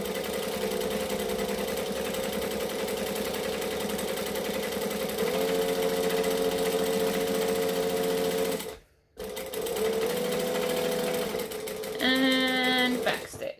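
A sewing machine stitches fabric in a steady, close mechanical whir that pauses briefly and then resumes, ending with a quicker burst of backstitching; faint speech can be heard under it.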